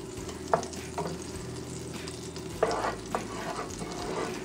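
A tablespoon of butter is added to hot oil in a frying pan for a cheesy mushroom dip, giving a steady close sizzle with a few sharp clinks and stirring bursts, no talking.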